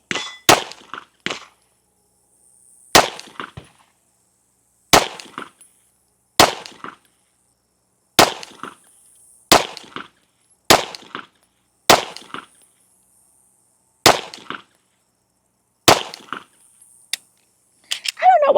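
Ten sharp pistol shots from a handgun with iron sights fired at a USPSA target from 10 yards, each loud crack followed by a metallic ring from the steel, spaced about a second apart with a brief pause midway.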